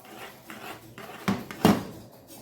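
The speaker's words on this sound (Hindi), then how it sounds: "इसको अच्छी तरह से हम मिक्स करते रहेंगे ताकि इसके कोई लम्स ना रहें" A spoon scrapes and knocks around a pot as sugar is stirred into a custard and cornflour mixture, irregular close clinks and rubs growing louder toward the end, with no talking.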